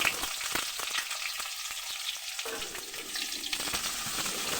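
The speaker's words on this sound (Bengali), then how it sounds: "কালো জিরাটা একটু ভেজে মা মিষ্টি কুমড়োগুলো দিয়ে দিয়েছে" Pumpkin pieces frying in oil with black cumin seeds, a steady close sizzle with bright crackle and a few soft stirring knocks, no voices.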